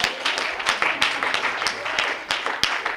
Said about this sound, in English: Clap your hands for that, man.